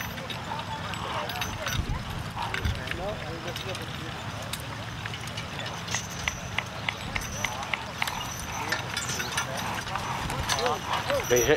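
Working horses at a ploughing contest outdoors, hooves clip-clopping in an irregular rhythm under crowd noise and nearby conversation, moderately distant.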